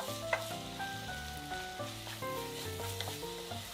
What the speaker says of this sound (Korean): 양념이 잘 섞이도록 같이 볶아주세요.